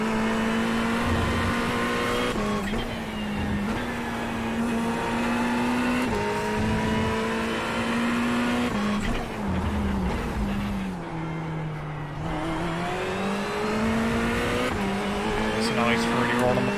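A Ferrari race car engine drones at high revs in the iRacing video game at Laguna Seca, with pitch rising and dipping through gear changes and corners, steady and loud throughout, while a commentator talks over it.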